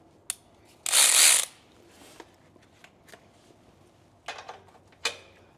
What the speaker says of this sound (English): And then a power ratchet if you so have one.